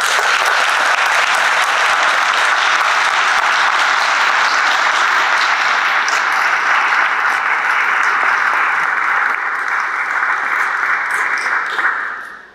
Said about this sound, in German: dem Klaus einen kleinen Applaus zu geben